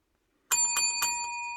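A small bell rings three quick, bright strikes, then hums and sustains as it fades, clear and close with no talk over it.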